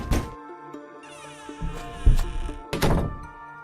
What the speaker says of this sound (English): He ran back to his cabin, knocking hurriedly.